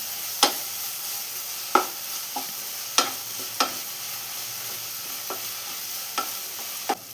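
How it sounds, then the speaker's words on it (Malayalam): Onions sautéing in a pan for chicken curry, a soft continuous sizzle broken by sharp scraping knocks of a spoon stirring against the pan every second or so. "സവാളയെല്ലാം കളർ മാറി വരുന്നവരെ നന്നായി തന്നെ ഒന്ന് വഴറ്റിയെടുക്കാം."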